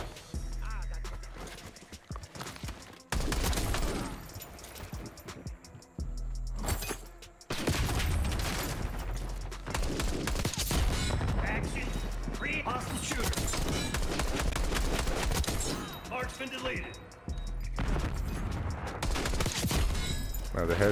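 Gunfire in the Black Ops 6 video game, bursts of shots and rattling fusillades in irregular clusters separated by brief quieter gaps, with a player voice talking over parts of the action.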